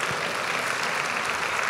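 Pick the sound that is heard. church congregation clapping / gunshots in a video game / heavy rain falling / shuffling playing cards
church congregation clapping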